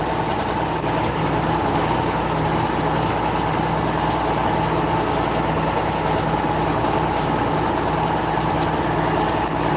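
A farm tractor idles in a field near corn, its engine holding a steady low rumble with a constant hum, close and unbroken, with no talking.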